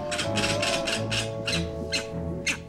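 Grey-winged trumpeter birds in a zoo enclosure give a run of repeated squawking calls in bursts, fairly close and steady over a low background hum, with no talking.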